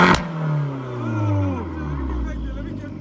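A wrecked Lamborghini Huracan's engine revs hard up close after a sharp knock, the pitch sliding and wavering as it roars, while voices chatter faintly underneath.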